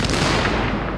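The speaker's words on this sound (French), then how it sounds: "Alors lancer une grenade." A grenade detonates in The Division video game, a loud, dense burst of broadband noise that fills the whole second and fades only slightly toward its end.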